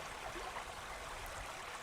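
Cold mountain stream rushing past at a steady pace, a continuous broadband wash of flowing water heard close and alone with no voices.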